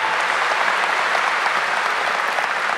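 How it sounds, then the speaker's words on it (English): Sustained applause from a graduation ceremony audience honoring distinguished guests at a high school commencement, a steady dense wash of clapping throughout with no talk. "let's give all of our distinguished guests a round of applause"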